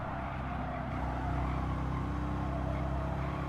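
A car engine in the racing game Gran Turismo 7 holds a steady, dense drone at fairly even revs for the whole stretch, with no voices over it.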